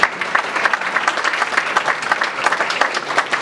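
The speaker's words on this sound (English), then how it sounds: "you might want to give him a round of applause" Lively round of applause from a small group at a business lunch meeting, quick and close with uneven individual claps, steady throughout with no talk.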